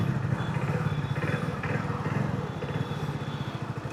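A Hero HF Deluxe Flex Fuel motorcycle engine fires up and settles into a close, loud, pulsing single-cylinder putter with a rapid even rhythm.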